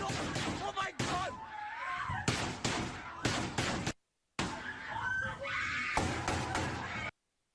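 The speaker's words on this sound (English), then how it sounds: "The terror there and those screams that just hit you in the gut." Students scream and cry out inside a Florida school during a shooting, with panicked shrieks, frantic voices and sharp bangs in chaotic bursts, broken by a moment of silence and then more screaming.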